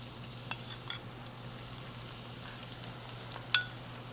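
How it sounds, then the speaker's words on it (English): Flour-coated rice refrying in hot oil for a crispy Thai rice salad, a faint steady sizzle with a couple of soft clinks from the pan, no voices. "gonna refry again to make it more crispy"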